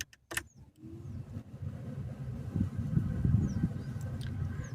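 A Renault car being switched on: a few sharp clicks and a key-like rattle, then a low engine hum rising and settling steadily, close and moderately loud, with no talk.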